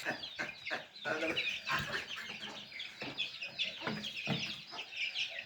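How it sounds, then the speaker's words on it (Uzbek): One-month-old chicks cheeping and clucking in a busy, overlapping chorus close by, with scattered higher chirps throughout. "Bir oylik jo'jalarim. O'zim katta qilyapman."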